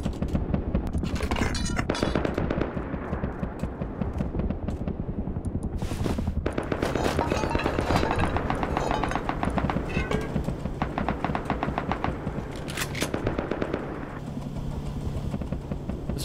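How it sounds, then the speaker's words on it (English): Shotgun blasts ring out in the survival video game Rust, loud and close, as repeated sharp shots and bursts punctuate clattering gameplay noise over several seconds. "This shotgun's so cool."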